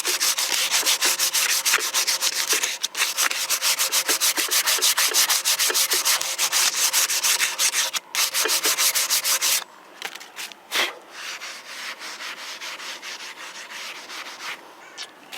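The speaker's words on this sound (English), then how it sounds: "So next I just use some steel wool like that" Steel wool and heavy sandpaper rub hard against a stripped, cleaned wood surface in quick, steady back-and-forth strokes, loud and continuous for about ten seconds before easing into lighter, softer scrubbing.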